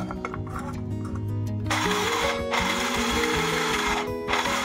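Toasted peanuts, browned in a pan, ground in an electric grinder: a loud, continuous whirring motor drone with rattling, shifting pitch throughout, no voices.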